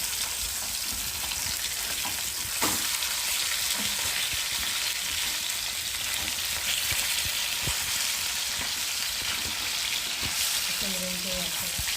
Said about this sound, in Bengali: দেখো কত সুন্দর মাছ ভাজা হচ্ছে